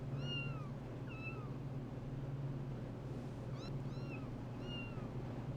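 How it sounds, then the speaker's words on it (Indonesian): A cat meows repeatedly outside a minimarket, about five short rising-falling cries spaced a second or so apart, heard over a constant low mechanical hum. "Saat ia memberi makan kucing di luar minimarket"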